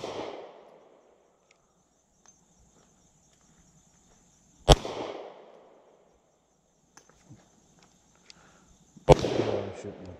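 Gunshots at an outdoor shooting range, two sharp loud reports several seconds apart, each with a trailing echo, over near silence.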